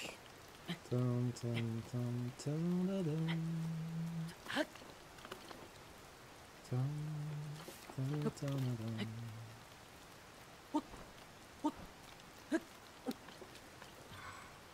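Rain patters steadily in the video game Zelda: Tears of the Kingdom while a voice speaks at length, with a few sharper drip-like ticks near the end.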